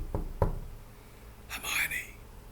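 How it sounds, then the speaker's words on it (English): Two soft, dull knocks on a door, close and quick, followed by a brief hushed whisper. "Harry and Ron knocked softly on the door."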